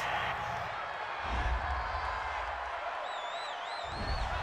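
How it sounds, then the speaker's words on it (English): A football stadium crowd during a Los Angeles Rams versus Miami Dolphins game reacts to a roughing-the-passer penalty, a broad sustained roar with a whistle-like tone, heard under a broadcaster's voice. "Well, this crowd does not like that call."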